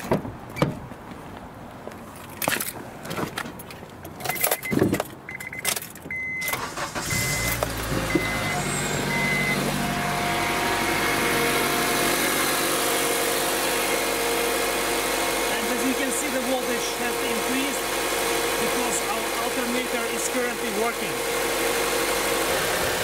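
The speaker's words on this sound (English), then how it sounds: "now we can start the vehicle." A vehicle engine cranks and starts after a jump start from a 2000A lithium-ion jump starter, then settles into a steady, continuous idle hum; scattered clicks and handling noises come before it, with some talk.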